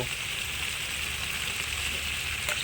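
Eggplant pickle with spices frying in oil, just before mustard paste goes in: a close, steady hiss and sizzle that runs without a break, with no talking.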